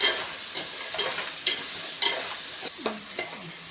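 Crab curry being stirred in a frying pan: close, irregular spoon scrapes and clinks over a soft sizzle, with several sharp strikes against the pan and no talking.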